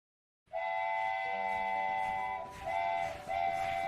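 A cartoon train whistle sounds in a steady, bright, chord-like tone after a moment of silence, breaks briefly, then blows twice more, loud and close.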